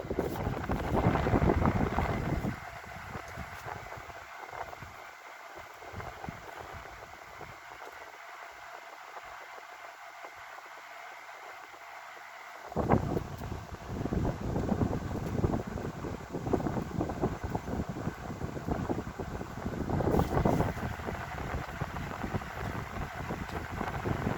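A vintage Galaxy 12-inch table fan runs on its high setting, giving a steady, close, broadband whoosh of moving air that grows fuller and rougher partway through, with no talking.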